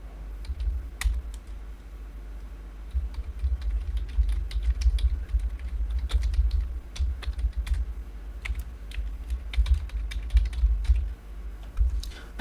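Someone types an email address on a computer keyboard, producing a steady run of quick, light key clicks with uneven rhythm and occasional sharper taps. The sound is close and moderately quiet, with no talking.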